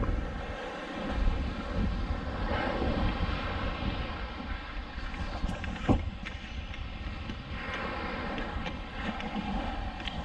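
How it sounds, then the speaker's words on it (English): Strong wind buffeting the microphone on an island beach in Cebu, Philippines, a steady loud rumbling roar with gusts, alone with no talk. "The wind is kicking pretty hard"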